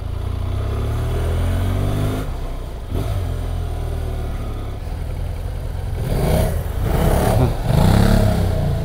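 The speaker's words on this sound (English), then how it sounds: "That's what a BM sounds like with an Akrapovic exhaust" A 2017 BMW F800 GT motorcycle with an Akrapovic exhaust idles with a deep, throaty exhaust rumble, then revs sharply twice, loud and close.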